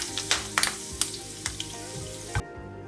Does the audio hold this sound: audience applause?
no